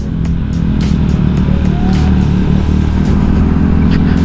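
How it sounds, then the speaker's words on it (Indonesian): A Honda Vario 125 eSP 2017 scooter's AHM exhaust burbling loudly and steadily up close, a low rhythmic engine throb with slight revving. "ini menurut gue suara knalpotnya tuh kayak lucu suara knalpotnya"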